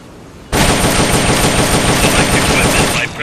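Sustained assault rifle fire in Metal Gear Solid Peace Walker, a loud continuous burst of rapid gunshots starting abruptly and running nearly three seconds without pause.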